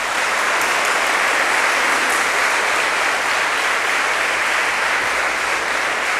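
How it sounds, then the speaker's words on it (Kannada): Students in an orientation program break into loud, dense applause, a steady roar of many hands clapping that holds at full strength from start to finish with no talk over it. "ಜೋರಾದ ಚಪ್ಪಾಳೆ ಕೊಟ್ಟು ಅವರಿಗೆಲ್ಲ ಒಂದು ಧನ್ಯವಾದ ಹೇಳಿಬಿಡಿ"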